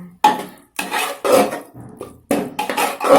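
Mustard greens for sarson saag being stirred in a pan, giving repeated scraping and clinking strokes of a spoon against cookware in uneven bursts, close and fairly loud with short pauses between.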